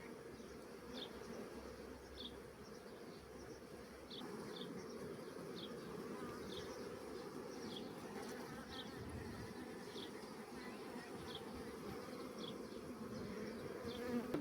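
Honeybees buzz at a beehive colony outdoors: a dense, steady, close swarm hum that holds unbroken for the whole stretch, with no voices.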